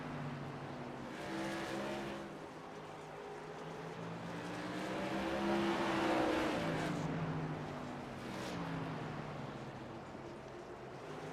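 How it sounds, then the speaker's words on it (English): Tour modified race cars in a racing video game drone around the track, engine tones rising and falling in sweeping passes as cars approach and recede, fairly faint and continuous throughout. "Looks like the pressure from Oswald has scalded the tires on the 6th machine"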